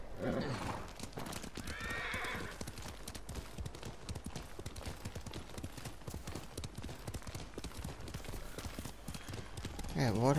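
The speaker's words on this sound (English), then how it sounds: "why'd I call a horse" Horse in the video game Ghost of Tsushima trotting with dense clip-clop hoofbeats throughout, a whinny near the start and another at the end, set against busy outdoor ambience.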